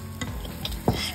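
Scrambled eggs cooking in a pan, a spatula stirring and scraping with a couple of quick strokes over a low sizzle, close and brief.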